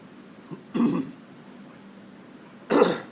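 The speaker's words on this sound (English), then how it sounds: "And then I could clear my throat" Someone clears their throat twice, close and loud, the two rough bursts separated by a quiet pause, with a faint small sound just before the first.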